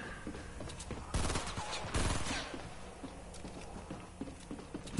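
Rapid bursts of gunfire from a Fortnite Battle Royale match, with dense clattering shots and two louder volleys up close, layered under steady game noise.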